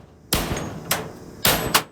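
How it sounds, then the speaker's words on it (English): A sledgehammer and a ball peen hammer straighten bent workbench metal at the caster mounts, four loud ringing clanging blows close by in an irregular rhythm. "Just with a sledgehammer and a ball peen hammer, I was able to get that back into shape pretty easily."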